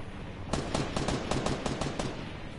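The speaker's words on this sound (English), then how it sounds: "And then I hear someone with SMG." SMG gunfire in the video game Fortnite: a rapid burst of about a dozen sharp, evenly spaced shots over steady background noise, fairly faint and distant, with no voices.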